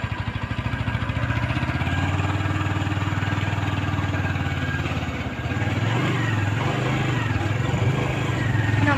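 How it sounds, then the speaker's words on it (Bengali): A motorcycle engine idles with a steady low putter while the bike is turned around outside a closed gate, close and continuous, dipping briefly midway before settling back. "আমরা মোটরসাইকেল ঘুরিয়ে ফেলছি।"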